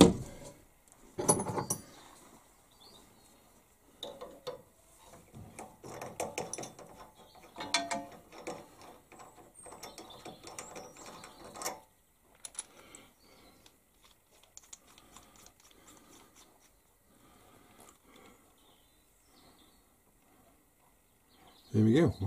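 A spanner ratchet clicks in a workshop during stainless steel bottle stopper turning work, giving bursts of quick mechanical ticking that come and go, with a louder clunk at the end.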